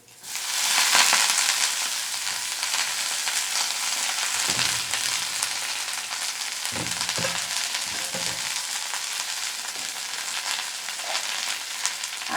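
Chopped bottle gourd leaves with garlic fry in a hot pan, a loud, dense sizzle running throughout, with a few soft stirring knocks partway through.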